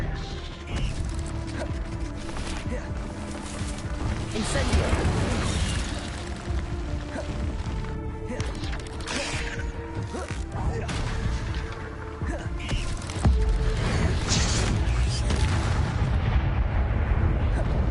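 Fire spell cast in Hogwarts Legacy, a dense roaring, crackling burst of magical flame among continuous loud combat effects, with a voice and mechanical clatter running through the whole stretch.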